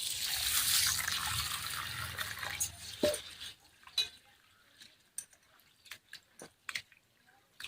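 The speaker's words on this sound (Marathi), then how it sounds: "ही उडीद डाळसुद्धा स्वच्छ धुवून घ्यायची" Urad dal is swished and rubbed in water, a watery churn that fades into scattered close drips, splashes and small wet clicks, faint and uneven.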